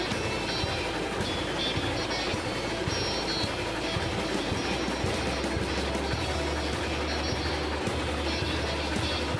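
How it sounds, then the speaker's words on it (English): A locomotive rumbles steadily in the railroad video game Railroads Online, a dense, continuous mechanical roar with low engine drone throughout, alone with no talk. "When you just see this locomotive running towards you."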